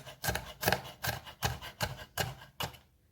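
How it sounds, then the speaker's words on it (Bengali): A knife slices capsicum into long strips on a board, seven crisp cutting strokes in a steady rhythm, close and clear, ending in silence. "তো আমি এইভাবে এই যে লম্বা লম্বা করে কেটে নিচ্ছি"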